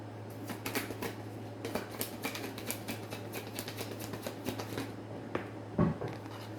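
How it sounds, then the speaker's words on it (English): Tarot cards being shuffled by hand during a reading: a steady run of soft, papery riffles and flicks close to the mic, with a low constant hum underneath and a slightly louder tap near the end. "let me shuffle"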